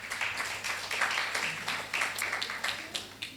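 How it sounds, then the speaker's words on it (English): Audience at a foundation event applauding, a dense patter of many hands clapping in waves that swell and fade over a few seconds. "Clap for that, please."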